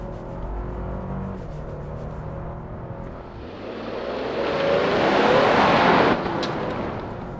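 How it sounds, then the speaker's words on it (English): A 2022 Lexus LX600 with a 3.5-litre twin-turbo V6 accelerates hard at full throttle, the engine note swelling to a loud roar before easing off near the end, heard steadily from inside the cabin. "Yuri, floor it for me."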